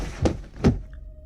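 Two dull thumps of something bumping against a door in an abandoned hospital corridor, evenly spaced and fairly close, followed by a faint steady hum.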